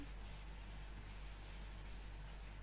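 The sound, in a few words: rubbing out writing on a board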